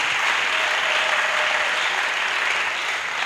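A church congregation at a pastoral academy session breaks into loud, sustained applause, a dense steady wash of clapping filling the room from start to finish with no gaps.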